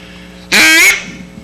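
A person imitates a duck's quack, voicing one loud, goose-like honking call of about half a second that stands alone in a quiet room.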